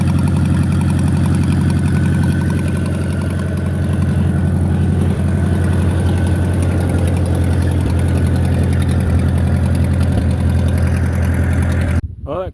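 A Ferguson TO30 tractor engine with an unhappy carburetor runs rough at idle, a loud, continuous uneven chugging that cuts off abruptly near the end.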